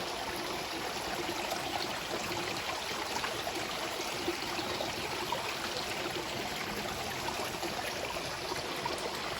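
Water in a stream rushes and burbles steadily, a continuous outdoor flow with no voices.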